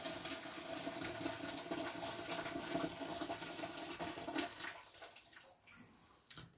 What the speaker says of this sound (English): I can put another kettle full of water in